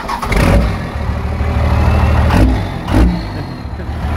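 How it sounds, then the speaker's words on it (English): An old Dodge diesel truck engine turning over and catching, with a rough cranking burst followed by a loud, uneven diesel rumble that surges briefly before settling near the microphone. "in the old Dodge Diesel"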